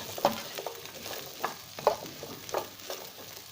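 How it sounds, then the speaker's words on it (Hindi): Vegetables stir-fried lightly in a pan for chicken manchurian, with a spatula scraping in an uneven rhythm of soft strokes over a low, constant sizzle. "सब्जियुनि खे भी हल्को हल्को असां फ्राई कंदासीं।"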